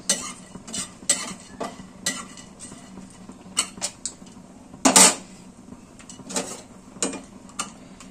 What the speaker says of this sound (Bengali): তো শুকনো লঙ্কাটা, গরম মশলা নাড়িয়ে নিয়েছি